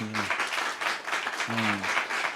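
A church congregation at a Korean revival meeting applauds in a long, steady burst of clapping, with a brief voice or tone at the start and again midway.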